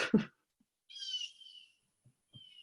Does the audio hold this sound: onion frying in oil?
no